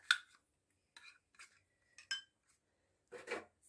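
Metal spoon clinking and scraping in a bowl as melted chocolate with a little oil is stirred, a few short separate bursts with gaps of quiet, close and fairly soft.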